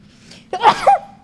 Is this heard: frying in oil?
no